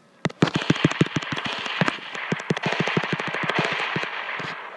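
Bursts of rapid gunfire in the Roblox Prison Life video game, a dense crackling string of sharp shots fired in quick succession, loud and close, with no talk over them.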